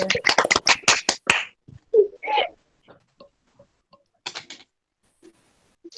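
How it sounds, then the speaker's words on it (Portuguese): A school class breaks into a short burst of sharp, close claps that quickly thins to a few scattered claps, followed by near silence with faint isolated noises. "palmas"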